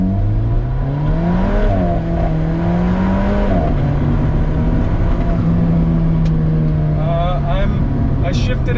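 An Alfa Romeo 4C engine pulls hard after a downshift into first, its loud, steady engine note rising and holding from inside the car, with a shift and brief change in pitch near the end.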